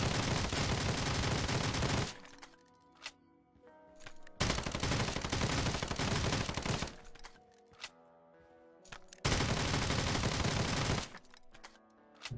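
L2A2 rifle firing in Lost Light Mobile, three long sustained bursts of rapid automatic fire, loud and close, separated by quieter gaps filled with mechanical clicks and clatter.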